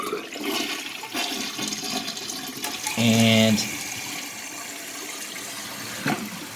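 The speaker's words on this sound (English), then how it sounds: "So my toilet is still running" A constantly running toilet hisses with water seeping through, steady and close throughout, with a brief louder tonal gush in the middle and someone speaking briefly over it.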